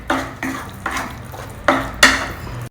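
A spoon stirs food in a cooking pan for a North Indian vegetarian meal, giving about six distinct scraping strokes in an uneven rhythm, close and fairly loud, with no talking.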